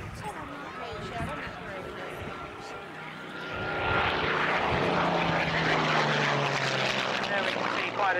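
Propeller aircraft, a Hurricane at an air show, roaring past with a loud sustained engine drone that swells toward the end, under a commentator talking over a public address system.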